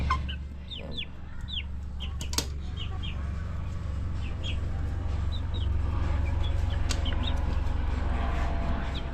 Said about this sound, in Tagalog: Yung mga manok ko, guys.